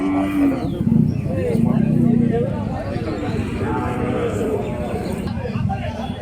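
Young Sahiwal bull calves low in deep, steady calls early on at Baidanga cattle market in Jhenaidah, mixed with people talking and a busy crowd murmur.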